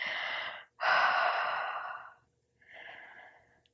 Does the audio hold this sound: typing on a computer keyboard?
no